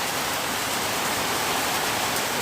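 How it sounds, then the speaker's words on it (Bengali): Torrential rain falls continuously, producing a thick, even roar of drops that stays loud and close throughout, with no pauses or talking. "প্রচুর বৃষ্টি। দেখেন বৃষ্টির কোনো কিছু নেই।"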